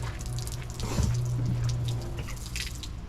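Water trickles and drips from a boat's live well hose, a close, steady running flow lasting a few seconds with no voices.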